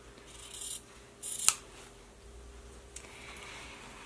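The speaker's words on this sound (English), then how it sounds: "take my scissors, and I'm going to trim about 1 inch beyond that lower folded edge" Scissors snip through quilt binding fabric at close range, with a couple of quiet cuts and one sharper snip, followed by soft rubbing of the cloth.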